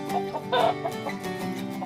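Chickens cluck in a low-cost breeding coop built mainly from corrugated metal sheeting on a Thai farm, giving a few short, close clucks over a steady background hum with no talking.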